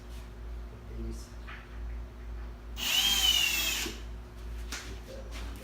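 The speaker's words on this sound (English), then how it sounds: "You got the drill?" A power drill drives a screw into a glued flow bench test plenum with a countersunk hole: one loud, whining burst of about a second, with quiet workshop sounds before and after.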